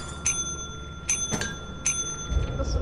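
A bell rings in sharp, bright strikes, four distinct dings spaced about a second apart, each ringing briefly before fading, with faint background noise between them.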